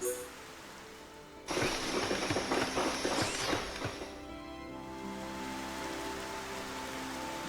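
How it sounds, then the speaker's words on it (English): Rain in the video game Xenoblade Chronicles starts abruptly as a dense hiss of falling drops, holds for a couple of seconds, then eases into a quieter steady wash over a low ambient drone. "This is kind of dreary with it all be raining and the such."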